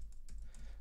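Quick, light keystrokes on a computer keyboard as a domain name is typed, a brief close run of clicks with no talk.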